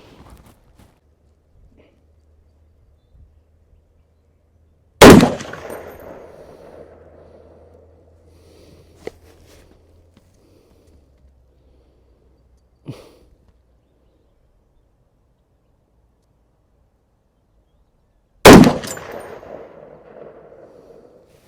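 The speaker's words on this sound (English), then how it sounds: "we have 3 rounds of 168 grain Hornady match, ELD match ammunition. We're going to shoot at the upper left target." A Ruger SFAR rifle fires 168 grain Hornady ELD Match rounds at an outdoor target: two loud, sharp single shots spaced well apart, each with a ringing echo tail, and faint clicks in between.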